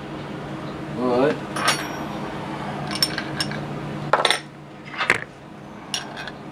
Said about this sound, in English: seven-sixteenths wrench.